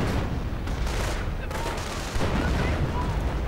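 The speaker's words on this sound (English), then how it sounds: "And some artillery getting called in." An artillery barrage in a strategy video game, dense overlapping booms and rapid gunfire rumbling continuously, with a louder burst of impacts near the end.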